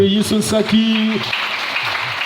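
A congregation at a French-language Sunday church service starts applauding right after a voice speaks. The clapping swells into a dense, moderately loud patter that fills the rest of the moment.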